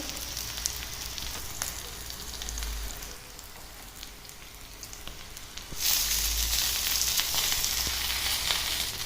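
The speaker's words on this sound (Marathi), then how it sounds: "ही टिक्के दोन्ही पण बाजूने फ्राय करून घ्यायचे आहे आता ह्या टिक्क्यांना मस्त असं वरून तेल लावून घ्यायचं" Aloo tikki potato patties sizzle in oil in a pan, a dense crackling hiss that dips slightly midway and then swells louder and brighter.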